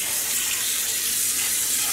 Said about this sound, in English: when I turned on the water, that some color is rinsing out of this yarn